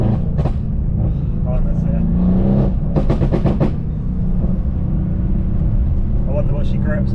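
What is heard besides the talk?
tuned Mercedes C63 AMG engine and exhaust with valve open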